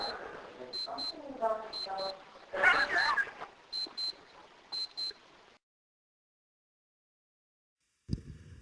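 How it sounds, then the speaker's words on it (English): Repeated high electronic beeps in quick pairs from a wristwatch inside a school building, sounding under people talking, then silence and a brief noise at the end. "You'll hear his watch beeping."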